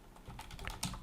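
A computer keyboard clatters with a short run of quick, close keystrokes as someone types a domain name to reach a cPanel login page.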